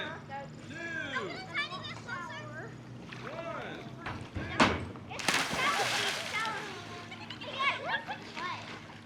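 At a campground, a child does a cannonball jump into water. A sudden loud splash with sloshing follows, amid excited children's chatter and shouting close by.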